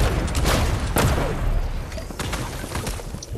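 Rapid gunfire, including LMG fire, in a Fortnite match, loud dense bursts of shots crackling close by for a few seconds, thinning slightly toward the end.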